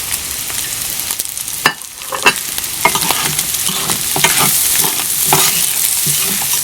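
Carrot, sweet pepper and chili pepper stir-fry in a hot pan. A loud, continuous sizzle carries sharp clatters and scrapes of stirring, with no voices.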